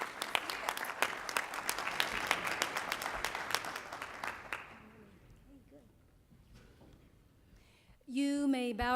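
Audience applause at the 26th Annual City of Tampa Black History Celebration in 2014: a dense, steady round of clapping that fades out, followed by a quiet pause before a voice begins speaking.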